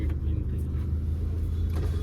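A modified Alto car running on a road test, its low engine and road rumble steady and close throughout, with faint cabin noise and no clear speech.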